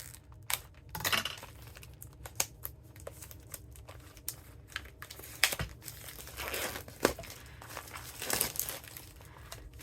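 Paper crinkling and rustling as a Stampin' Up! Paper Pumpkin craft kit package is opened, close and irregular, with several sharper crinkles and tearing bursts over the background.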